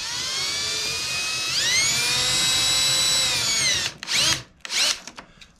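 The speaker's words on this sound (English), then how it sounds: "I'm going to insert it here, and I'm going to drill a hole." A high-pitched drill whines steadily while drilling a hole for an ATV electric winch install, its pitch rising as it spins up, then stops and gives a few short bursts.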